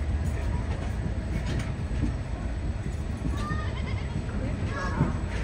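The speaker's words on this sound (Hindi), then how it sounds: "ट्रेन निकल रही है, देखो कितने जबरदस्त ट्रैफिक और दुकानों के बीच में से" A Bangladesh Railway train on the Dhaka to Khulna route rolls through a crowded market in a steady, rumbling drone. Crowd noise and scattered calls rise over it, and a voice talks over the passing train.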